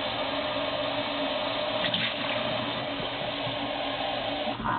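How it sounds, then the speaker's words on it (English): A continuous rushing stream of hot water pouring into a glass jar, steady and fairly close, with no voices. "I'm going to use a one-step sterilizer and nice hot water"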